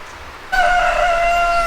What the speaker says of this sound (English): Oh, it's chicken, rooster.